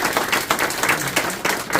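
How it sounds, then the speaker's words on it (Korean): Big round of applause from a crowd at a political campaign rally event, dense steady clapping throughout with no talk over it. "다시 한번 큰 박수 부탁드리겠습니다."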